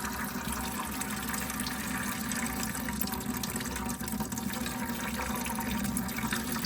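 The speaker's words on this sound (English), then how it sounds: "And now that's just going to drain into your bucket there." Coolant drains from a 1998 Subaru EJ22 engine into a bucket as a steady, continuous liquid stream and splash, close and moderately loud, with no voices.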